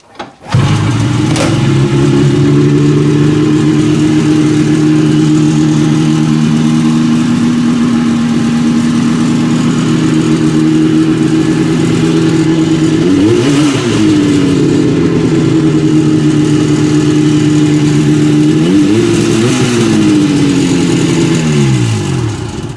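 Ski-Doo Citation 4500 snowmobile engine fires up and runs with a loud, steady buzzing drone, rising in two quick revs partway through before settling back to a fast idle.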